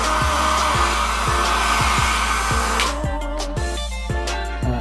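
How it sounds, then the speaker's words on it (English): A hair dryer blows steadily and loudly up close while heating the back of a Galaxy S6 phone, a continuous whooshing roar with a rhythmic low pulsing and a shift in tone partway through. "I use my sister's hair dryer, you can see over here, to heat it."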